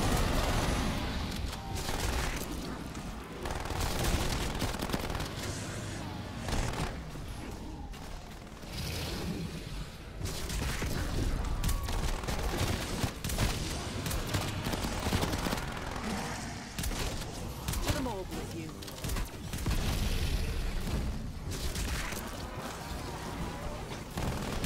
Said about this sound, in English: Sentry turret ready to fire.